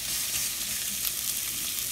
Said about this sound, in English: Sexy sizzle. Nice and low and slow.